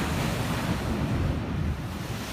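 Ocean waves surge and break along Ocean Beach in San Diego, a steady broadband wash of surf mixed with wind rumble against the microphone, continuous and close with no talking.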